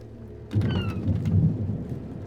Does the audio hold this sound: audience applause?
no